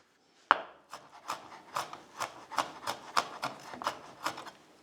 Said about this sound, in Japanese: ベーコンは、ちょっと大きめに切ってあげた方が食べ応えがあっていい感じなので